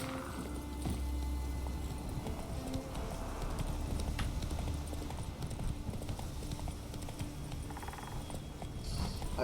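Steady clip-clop of horse hooves at a walking pace in The Witcher 3: Wild Hunt, continuous and fairly close, over a low ambient hum.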